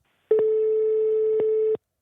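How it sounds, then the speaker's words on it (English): Telephone busy signal on a call line: one steady electronic tone held for about a second and a half, clear and alone, with no talking. "It must be the international dial tone."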